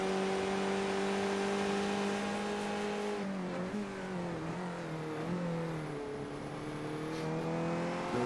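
A Skip Barber race car in a sim racing game holds a steady, droning engine note, then wavers and wobbles in pitch as the car spins out, loud and continuous throughout.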